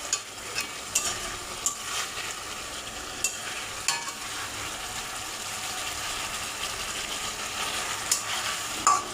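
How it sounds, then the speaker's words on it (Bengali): Chopped medium tomato sautéing and being stirred in a hot pan for a katla fish curry with drumsticks, a steady sizzle with repeated sharp scraping stirs throughout, close and alone. "মাঝারি সাইজের টমেটোটা আমি এখন এর সঙ্গে দিয়ে আমি এটা কষাতে থাকবো"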